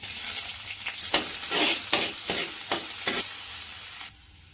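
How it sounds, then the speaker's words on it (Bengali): Chopped garlic and fresh curry leaves sizzle loudly in hot oil, broken by repeated stirring strokes, before the sound drops away abruptly near the end. "রসুনগুলো লাল করে ভেজে নিয়েছি"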